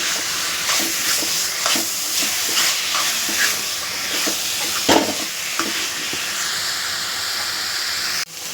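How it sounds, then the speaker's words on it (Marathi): Kolam being stir-fried in a pan for shevla, a wild monsoon vegetable dish: a steady close sizzle with repeated scraping spatula strokes, and a brief louder clatter near the end. "रोहित आपले जे कोलम परतून घ्या"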